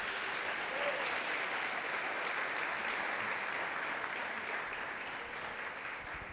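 Sustained applause from a church congregation at an evening service, an even wash of clapping that holds steady and fades slightly toward the end.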